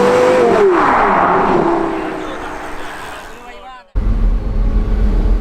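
Porsche Carrera GT engine pulling up through the revs, a rising whine over a steady roar, loud and close, then the tone drops off sharply before the car settles back into a low, rumbling drone.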